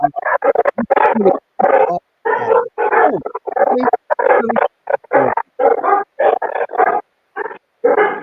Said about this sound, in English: I couldn't hear you over the dogs acting a muck